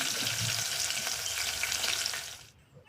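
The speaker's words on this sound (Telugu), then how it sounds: "పచ్చిమిర్చి ఉల్లిగడ్డ వేసుకొని అవి కూడా కొంచెం వేగాలి" Green chillies and onions fry in hot oil, a dense close sizzle that runs steadily and then drops away abruptly near the end, with no speech.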